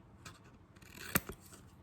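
Scissors snip the corners of a small piece of construction paper for a craft sign, a few soft rubbing cuts leading to one sharp close snip and a smaller one after it.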